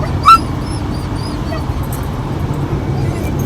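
A dog inside a Sprinter camper van gives a sharp high yip followed by soft, thin whimpers, over a constant low rumble of the moving vehicle.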